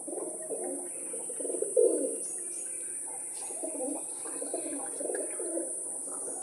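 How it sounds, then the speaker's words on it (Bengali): Pigeons in a new home loft cooing, repeated soft throaty coos in a slow irregular rhythm, close and clear over a faint steady background hiss. "তোমার পায়রা এগুলো সব"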